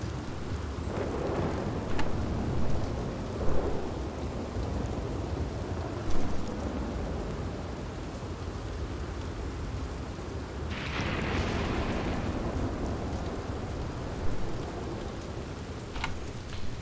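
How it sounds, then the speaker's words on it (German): Scripted rain and thunder in Red Dead Redemption 2: a constant wash of rainfall with several rolling thunder rumbles and one sharper crack near the middle, loud and alone without speech. "Ist aber schade, so ein geskripteter Regen."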